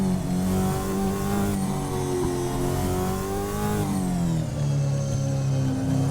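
A V8 Supercars Gen 3 Camaro race car in a racing sim roars at full throttle around Le Mans, its loud, continuous engine note rising and dipping with gear changes and no talk.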